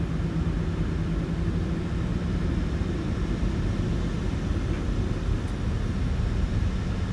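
An airliner's engines roar as it rolls on runway 8 in the Caribbean, heard from inside the cockpit as a steady, loud broadband rumble with no change in pitch and no talking.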